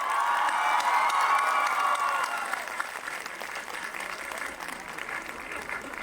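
A crowd applauds at an outdoor Christmas tree lighting in Masis, Armenia. The clapping is dense and loud at first, then thins and fades toward the end, with some scattered voices in the crowd.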